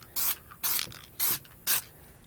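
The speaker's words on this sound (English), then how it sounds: "you pretty much just spray it everywhere you want to stay white." Spray paint hisses onto a lacrosse head in four short, evenly spaced bursts, each a bright, close hiss separated by quiet gaps.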